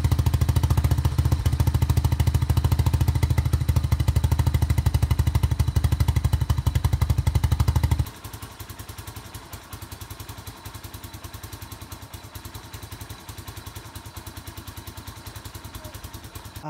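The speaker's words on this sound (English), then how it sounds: "I'm going to show you the stock exhaust, then I'm going to immediately cut over to the soda can exhaust" Motorcycle idling on its stock exhaust, a loud, heavy, rapid thumping pulse, then switching to a soda can muffler, after which the steady chugging continues noticeably quieter and thinner with a more clattery tone.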